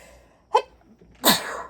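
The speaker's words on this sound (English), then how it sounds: "gotta sneeze." A single sharp sneeze, preceded by a quick intake of breath, close and fairly loud against a quiet room.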